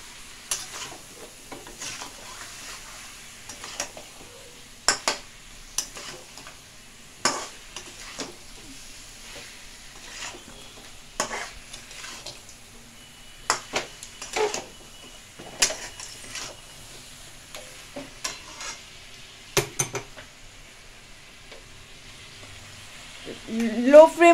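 Mutton fries in a pan while it is stirred, giving a steady low sizzle broken by scattered sharp scrapes and clinks of the utensil, with a louder burst of sizzling at the end.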